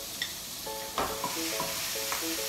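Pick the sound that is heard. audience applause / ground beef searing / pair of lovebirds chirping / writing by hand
ground beef searing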